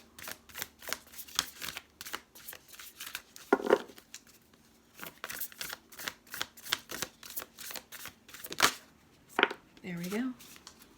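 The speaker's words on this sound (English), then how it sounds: "I need a good clean shuffle." Large oracle cards being shuffled by hand, a run of crisp riffling flutters and soft slaps in quick irregular bursts, close up, with a brief bit of speech near the end.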